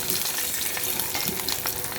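Eggs fry in a pan with a dense, continuous sizzle and crackle throughout, close and fairly loud.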